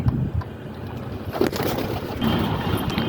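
Domestic pigeons in a loft coo softly, and a male eager to pair is among them. The low, throaty calls come in short bursts over a rustling, muffled background, fairly close, with no talking.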